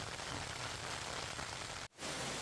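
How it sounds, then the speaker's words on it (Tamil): Steady rain falls over a small home vegetable garden, producing a continuous, even hiss that briefly drops out near the end before resuming. No one speaks. "மழை நல்லா வரவும் பாருங்கள்"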